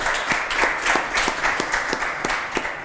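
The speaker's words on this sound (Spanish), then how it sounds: "lo primero, un aplauso" Audience applause at an ECODEBATES workshop session, a steady wash of many hands clapping with some rhythmic sharper claps, moderately loud and continuous throughout.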